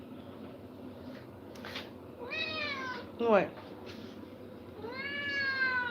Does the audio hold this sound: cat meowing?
yes